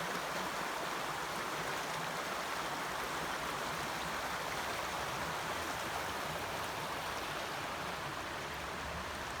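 The River Wye flows beside the Monsal Trail in Derbyshire in winter, a steady, full rushing of water that stays loud and unbroken throughout, with no voices over it.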